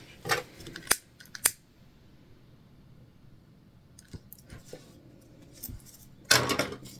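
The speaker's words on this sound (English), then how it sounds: "We're just going to clip off that little bit of extra." A few sharp scissor snips, two quick ones early, scattered faint clicks and handling noises, then a louder crunchy cut near the end, close by in a quiet room.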